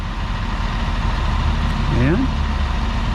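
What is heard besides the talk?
truck pulling a boat trailer up the ramp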